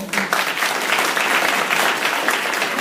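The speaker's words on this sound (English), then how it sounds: "Y'all give them a good round of applause." An audience gives sustained, dense applause for mentors of the Wendell Scott Foundation, with many hands clapping steadily and loudly from start to finish.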